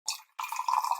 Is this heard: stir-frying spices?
no